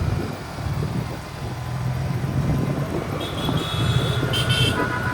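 Vehicle engine running steadily in third gear on a hill road nearing Ruma Bazar, with a low continuous drone, road rumble and a few short high horn-like tones near the end; no talk.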